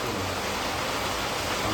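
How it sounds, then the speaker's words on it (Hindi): Heavy, serious monsoon-style rain pouring steadily in a cold wind, a dense continuous wash of broadband hiss with no break and no voices. "बहुत सीरियस वर्षा"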